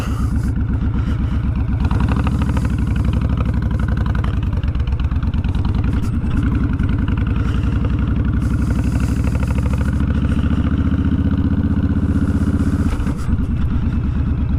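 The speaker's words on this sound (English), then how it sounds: "This thing is really luggy in first gear. Yeah, most big displacement bikes, I'd assume, are." A big-displacement motorcycle engine lugs at low revs in first gear, a loud, steady, close-up rumble with a continuous chugging throb that holds through the whole stretch with no voices.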